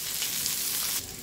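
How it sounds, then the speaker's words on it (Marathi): Dry coconut roasting in a little oil on a hot pan over a low flame gives a soft, continuous sizzle, brief and close, with no talk. "सुक खोबरं किंचितस तेल टाकायचं. त्या तवा तापलेला गॅसच्यात कमी केलेली"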